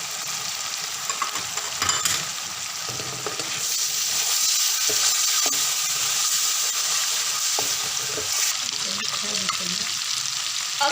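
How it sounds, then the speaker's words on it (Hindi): Chicken fries in a pan with chili sauce, soya sauce and red chili, giving a loud, steady sizzle throughout, broken by occasional stirring scrapes and clacks close by. "देखिए चिकन हमारा फ्राई हो रहा है।"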